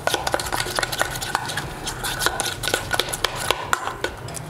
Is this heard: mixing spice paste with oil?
yes